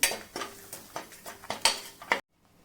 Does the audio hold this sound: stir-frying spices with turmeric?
yes